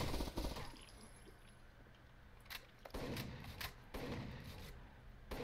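Gunfire in the tactical shooter Rainbow Six Vegas 2, several sharp bursts of shots fairly quiet and a little distant, scattered across a few seconds with brief gaps of near-quiet between them.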